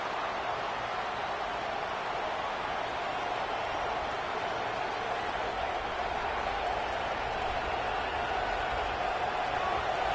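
Stadium crowd in a Madden football game: a continuous, even roar of a large crowd filling the space, broad and steady without breaks or distinct voices.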